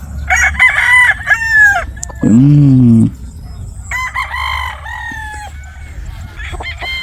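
Game fowl roosters crow on a grassy game farm, several loud, close cock-a-doodle-doo calls following one another, one deeper and longer, over low background noise with occasional clucks.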